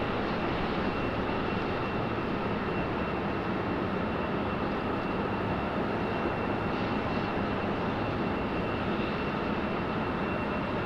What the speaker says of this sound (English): Air Force 2 getting a move on